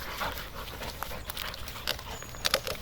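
Guard dogs panting close by, a soft rapid breathy rhythm with a few brief high whimpers near the end, fairly quiet and with no talking.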